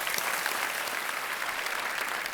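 A studio audience on the game show KBC applauds in a continuous wash of clapping that stays even and fairly loud throughout, with no voices on top.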